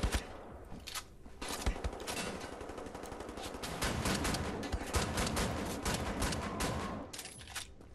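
Enemy gunfire in the shooter Wolfenstein: The New Order, a loud clattering barrage of rapid shots and bursts that keeps up almost the whole time, with brief pauses between volleys.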